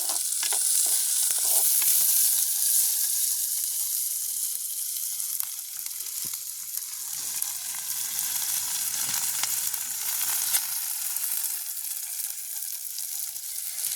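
Oil frying in a village kitchen pan while a mushroom curry is prepared, a continuous bright sizzle with occasional stirring scrapes and crackles, close and steady throughout.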